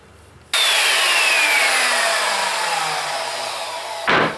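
A power saw cuts through reclaimed wood in a single continuous pass of about three and a half seconds, with a steady whine that drops slightly in pitch under load. It stops with a short burst at the end, close and fairly loud.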